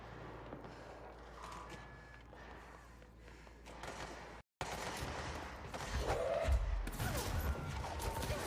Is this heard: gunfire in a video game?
yes